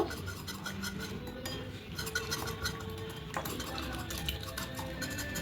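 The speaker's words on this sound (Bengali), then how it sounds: "এক চামচ দেবো সাদা তেল দিয়ে আবারও ভালো করে মিশিয়ে নেব" A spoon stirring bread batter with a spoonful of semolina and white oil, making a close, steady scraping and clinking against the bowl with a continuous rhythmic churn.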